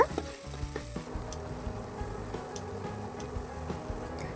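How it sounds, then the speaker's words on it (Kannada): Green chillies, ginger-garlic paste and spices sizzling in hot oil for mutton kanji, a steady close frying hiss broken by the scrape and clink of stirring. "ಇವಾಗ ಎಲ್ಲನೂ ಚೆನ್ನಾಗಿ ಫ್ರೈ ಮಾಡ್ಕೊಳ್ಳೋಣ."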